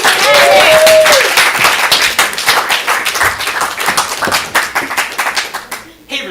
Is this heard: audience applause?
yes